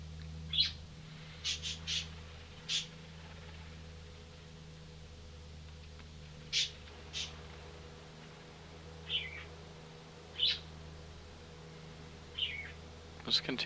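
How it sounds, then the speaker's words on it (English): Scattered birds chirp in short, bright calls a few seconds apart, faint over a steady low engine drone and hiss inside the cockpit of an XCub light aircraft. "Birds are getting excited today."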